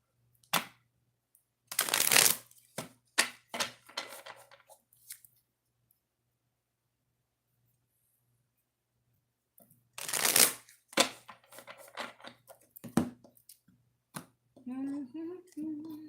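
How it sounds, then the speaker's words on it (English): Two bursts of cards being shuffled, each a quick riffle followed by a few taps, separated by a pause; brief murmured talk near the end. "2 shuffles before we start,"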